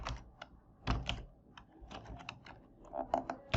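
Fingers tap on a computer keyboard in quick, uneven clicks, with a few heavier key presses like the Enter key among them, close and fairly quiet with no talking.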